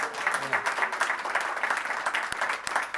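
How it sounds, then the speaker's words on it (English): Audience applause at a board of education meeting, a steady wash of clapping lasting about three seconds at moderate level, with a couple of sharper knocks near the end. "That was a weak clap. Let's try it one more time."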